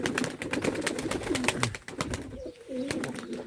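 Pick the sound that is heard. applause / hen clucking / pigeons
pigeons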